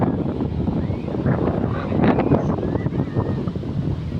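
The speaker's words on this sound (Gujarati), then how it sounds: "અને દરિયાનો કોઈ અવાજ કેવો આવે છે" Wind buffets the microphone in a steady roar on the seashore at Dwarka, with sea waves washing and surging underneath it. No voices are heard.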